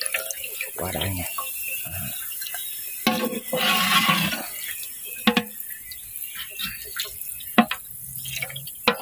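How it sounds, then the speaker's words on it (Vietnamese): Fish cakes fry in hot oil with a steady high sizzling hiss, broken by scattered pops and crackles, while a woman chats casually over the cooking. "Chiên cá chả ngay cả nhà ơi"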